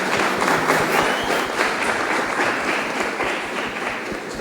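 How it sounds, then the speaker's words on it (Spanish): A large panel audience applauds steadily, a dense wash of clapping that fills the space at a constant loud level. "Fuerte aplauso, por favor,"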